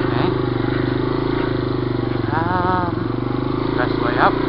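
Yamaha 200E three-wheeler engine chugging loudly and rhythmically up close as the wheels spin for traction, with a brief rising rev midway and a voice speaking over the engine.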